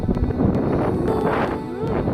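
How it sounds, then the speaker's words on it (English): Steady wind buffeting the microphone outdoors on open plains, a continuous low rumbling roar with gusty fluctuations throughout. "Windy out here."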